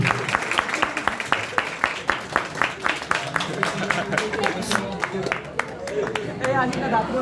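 An audience at a college function's magic show claps together in a fast, steady rhythm that goes on for several seconds. Voices and crowd murmur blend in beneath the clapping.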